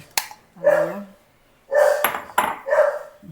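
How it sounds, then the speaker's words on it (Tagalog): A dog barks a few times nearby, with a person talking in between the barks. "ang ingay ng aking alaga si si Sky"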